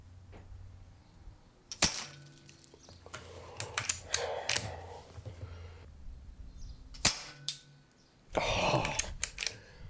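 A Weihrauch S410 air rifle fires at metal targets on an outdoor range, producing several sharp, isolated cracks and pings separated by quiet pauses, with some shuffling and a burst of rustling noise near the end.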